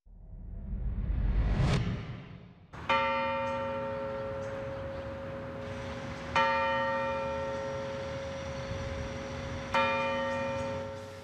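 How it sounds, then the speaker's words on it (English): A loud whooshing sweep gives way to a church bell at Virginia's Capitol Square tolling three slow, evenly spaced strokes, each ringing out and lingering between strikes. "Bells sounded 32 times at Virginia's Capitol Square at 9:43 this morning"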